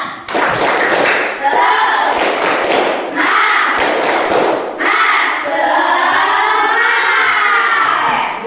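A school class performing a rhythmic 'tepuk semangat' clapping chant, children shouting chanted words in bursts punctuated by loud group claps, lively and close in a classroom.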